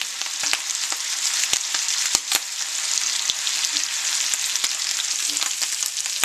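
Bacon frying in a pan, a steady close sizzle with scattered sharp pops and crackles throughout.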